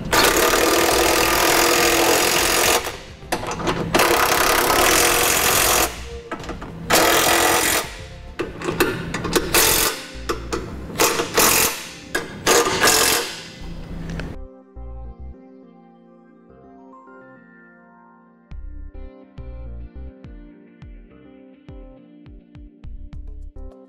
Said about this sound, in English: with the 3 remaining fasteners in on this side, we'll go ahead and tighten it down